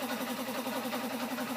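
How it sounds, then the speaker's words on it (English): Air compressor running in a steady, continuous mid-pitched hum with a faint rhythmic pulsing, moderately quiet and without any voices. "That's a compressor going on."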